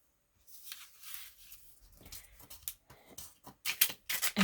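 Paper being trimmed with scissors during a craft session, a run of crisp snips and rustles that grows louder and denser toward the end, with quiet handling gaps in between.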